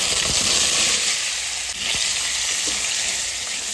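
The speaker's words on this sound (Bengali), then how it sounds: "এবার আমি কচুটা দিয়ে দেবো" Pieces of taro hit hot oil and fry with a loud, dense, continuous sizzle right up close, broken by a brief dip and a few stirring knocks against the pan.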